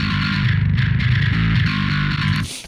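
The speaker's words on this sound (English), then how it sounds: "we want to drive the clank into the distortion" A clanky electric guitar riff, boosted in the high end before the amp and compressor, pushes into heavy distortion with chugging rhythmic notes, loud and alone, cutting off abruptly at the end.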